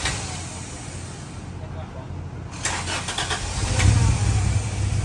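A 1990 Honda CRX with a B18C5 engine cranks and fires up, a low rumbling churn that grows louder and rougher as it catches, stumbling slightly, with people talking nearby.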